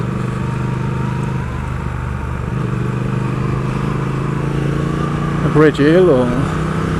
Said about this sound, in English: oh, that was a crap gear change. I'm really finding it difficult to change gear without a quick shifter.